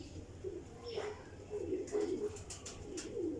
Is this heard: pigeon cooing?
yes